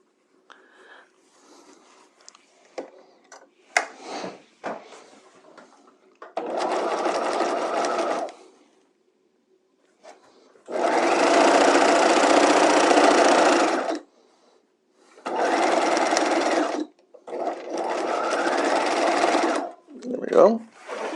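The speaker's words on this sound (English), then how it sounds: "Alright, we're at the sewing machine." A sewing machine sews a shoulder seam in several bursts of steady stitching, some short and one long, separated by quiet pauses with small handling clicks.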